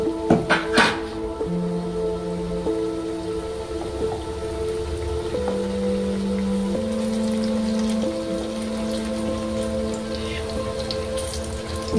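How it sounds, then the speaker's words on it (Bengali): Carrot fritters for dahi vada sizzle in hot oil with a steady, rain-like crackle, close and continuous, with occasional clinks of a utensil and no talking. "আমি সবটা এইভাবে ভেজে নেব।"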